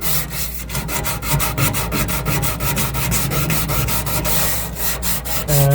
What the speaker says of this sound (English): it's gonna take me a little bit of work sanding it